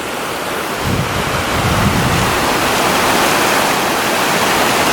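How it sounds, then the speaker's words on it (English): Otter Falls, a waterfall on a trail in the Seven Devils area of North Carolina, roars as a loud, steady rush of falling water with broadband hiss and wind rumble, continuous throughout. "Sounds absolutely beautiful down here, man. I love all the roaring water."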